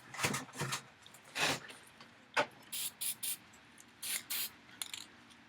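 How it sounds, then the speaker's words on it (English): Cheap off-brand black spray paint hisses from a can in short bursts, about a dozen quick sprays of varying length with pauses between, fairly close and soft against a quiet room. "grab your cheap off-brand black, spray like just a little bit out to the side here, get it flowing, and then just mist around this planet here"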